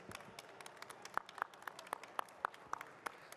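Audience applause at a Japan Expo 2025 convention talk on Japanese animation sounds faint and thin, scattered claps patter steadily from a small crowd some distance off.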